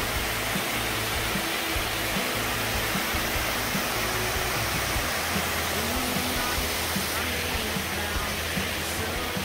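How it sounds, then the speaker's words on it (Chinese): A mountain waterfall on a high-peak trek in Taiwan, a loud continuous roar of rushing water close by, steady and unbroken for the whole stretch. "这里是鱼女瀑布"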